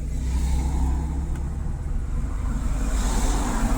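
A car engine revs in first gear as the car pulls away during a driving lesson, a steady mid-pitched drone over a low rumble, rising slightly in intensity toward the end, heard from inside the cabin with no talking.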